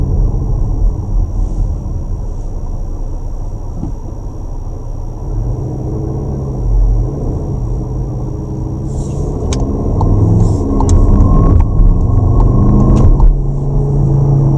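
Skoda Kodiaq RS 2019 with a 2.0 TDI bi-turbo diesel, 240 hp and 4x4, driven in sport mode: a loud, close engine drone that builds as it accelerates, with rising tones and a few clicks near the end.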